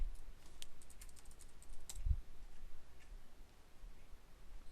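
Typing on a computer keyboard, with quick bursts of soft key clicks followed by scattered single taps and a dull thump, close by and with no talk over it.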